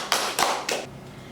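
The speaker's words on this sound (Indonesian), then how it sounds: "Tepuk tangan dulu dong untuk Kavi." Three sharp bursts of hand clapping for a young traditional dancer at an interview, close and loud, then quickly fading out.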